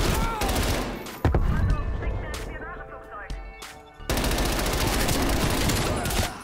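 Pistol shots in Call of Duty: Black Ops Cold War come in a few sharp, loud cracks over a background of game noise, with a short quieter gap between the bursts.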